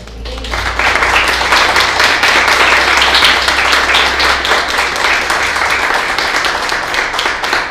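An audience at a church service breaks into loud, sustained applause, many hands clapping together for several seconds without pause.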